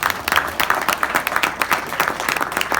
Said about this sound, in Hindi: तो जोरदार तालियां बजा लो एक बार